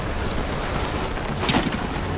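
A boat slaps through ocean waves in the video game Don't Starve Shipwrecked during rain, with a constant hiss of water and wind and a sharper splash of surf near the middle.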